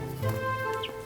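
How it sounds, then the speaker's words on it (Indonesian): A pet songbird chirps and sings in short bright phrases, close and fairly clear, with a faint tonal hum underneath and no talking. "Burung lu suaranya bagus begini."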